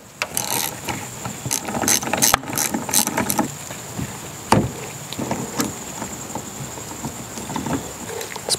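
A Phillips screwdriver works the seat screws on a neglected Yamaha Tmax scooter, giving intermittent close clicks, scrapes and metallic rattles in irregular bursts with quieter gaps between.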